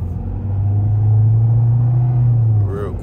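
A car pulls onto a highway during a test drive at an auto auction, its engine droning in a steady low rumble that swells as it gains speed and then eases off near the end.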